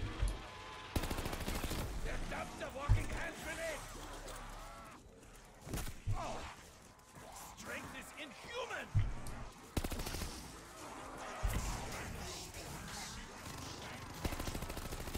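Rapid gunfire from a machine gun in Call of Duty Zombies, bursts rattling on and off through the stretch amid other game sounds, with a voice talking over parts of it.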